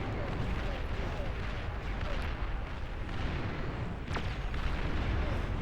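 Missiles slam into units in the real-time strategy game Beyond All Reason, a dense continuous rumble of explosions and booms with a sharper crack near the end, under steady talk.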